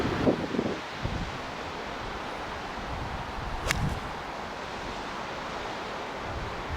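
Steady wind buffeting across an open golf course in Scotland, a broad rushing roar that fills the whole stretch, with a brief faint tone midway and no talking.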